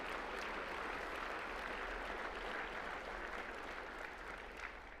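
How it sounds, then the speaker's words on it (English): Audience applause for volunteers at a Little Rock Touchdown Club gathering, a steady wash of clapping that holds evenly for five seconds at moderate, slightly distant level, with no voices over it. "Let's give them a big round of applause."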